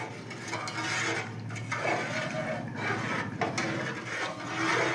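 Sheer khurma being stirred in a pot over a high flame while the milk is brought to a boil, giving a continuous close scraping and sloshing of a spoon against the pot for the whole stretch.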